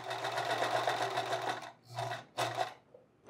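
A sewing machine stitches over a buttonhole in short bursts, a loud close rattling whir that stops and restarts twice as the fabric is turned between passes.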